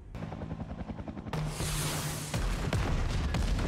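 Gunfire aimed at a helicopter in a scene from the TV series The Walking Dead: The Ones Who Live: rapid rotor thumps give way to a loud, dense wash of noise punctuated by a few sharp cracks.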